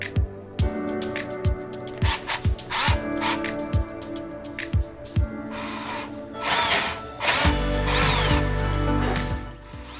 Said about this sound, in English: Drill a hole to receive the shaft of the hoe.